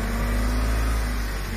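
A diesel van engine idles steadily after a two-part DPF cleaning treatment, a constant low rumble with a droning hum, close and even throughout with no speech.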